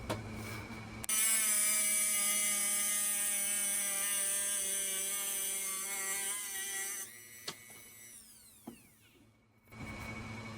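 A power tool cuts through a knife blank taken from a cheap knife, giving a steady, loud, high-pitched grinding whine that runs for about six seconds, then stops, leaving a few faint clicks and handling noises.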